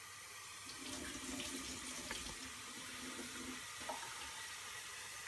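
Water from a tap pours in a steady stream into soaked rice and moong dal for Tamil Nadu style pongal, a close continuous splashing rush of several seconds with a brief change near the end.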